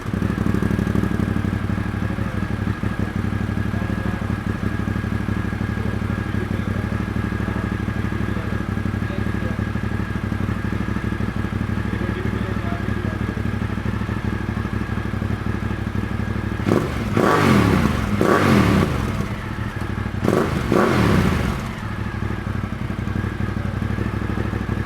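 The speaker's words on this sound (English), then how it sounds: "So now we're gonna power it on for the first time." A Ducati motorcycle engine fitted with an SC1-R exhaust runs loud and close at a steady idle, then blips sharply in a few quick revs near the end.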